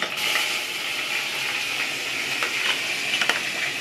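Curry leaves sizzle and fry in hot oil in a pan while a homemade vegetarian tomato sauce is cooked, a steady bright crackle running throughout with a few sharper pops near the end.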